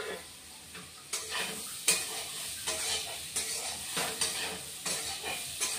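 Potatoes frying in oil with chili paste, ginger-garlic paste and onion paste being stirred in, a steady close sizzle broken by repeated scraping stirs every second or so, no talking.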